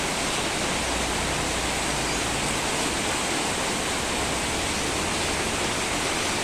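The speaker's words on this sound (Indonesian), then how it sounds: "kita lihat dari luar hujannya begitu deras" Heavy rain pours down outside in Bandung, a dense, steady roar of water that fills the whole scene without pause.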